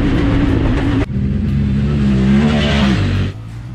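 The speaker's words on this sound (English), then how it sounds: "the Talon 1000R comes with a naturally aspirated engine that puts out about 104 horsepower" A Honda Talon 1000R side-by-side with a naturally aspirated engine revs loudly up close, its tone rising and shifting as it climbs through the revs, then dropping away near the end with no talk.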